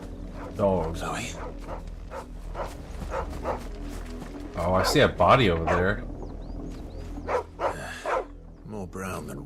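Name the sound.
dogs barking in the video game Final Fantasy XVI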